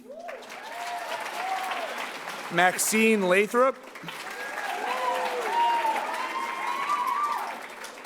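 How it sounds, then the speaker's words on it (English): Scattered audience applause at a middle school awards night runs steadily beneath a voice reading out student names over a loudspeaker. "Please clap for Daniel Martin"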